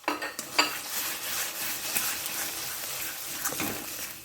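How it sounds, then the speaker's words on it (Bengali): Chicken being stirred and sautéed with spice paste in a pan, with a spoon scraping and clinking against the metal over a faint sizzle, a few sharper knocks early on. "এবার ভালো করে সমস্ত মশলা আমি কষিয়ে নেব।"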